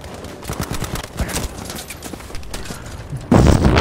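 Rapid bursts of gunfire in Battlefield V crackle throughout, scattered shots at varying distances, ending with a louder close volley.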